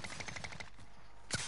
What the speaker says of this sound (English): Someone's firing.